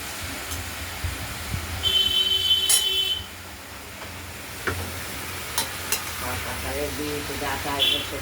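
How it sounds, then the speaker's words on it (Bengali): A mixed curry of five vegetables is stirred in an open wok, with a low simmering sizzle broken by irregular scrapes and sharp clinks of a spoon against the metal. "কড়াইয়ের ঢাকনাটি খুলে আরেকবার নাড়াচাড়া"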